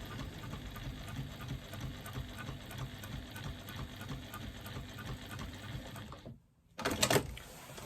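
A sewing machine hums and chatters steadily at close range while stitching a wonky quilting line, stopping briefly before a short final burst.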